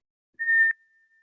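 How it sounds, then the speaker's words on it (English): A single whistled exhale through pursed lips during kundalini breathing, a clear thin tone lasting about a third of a second, close and alone in silence, then a faint fading breath. "So it's 8 parts in, whistle the breath out."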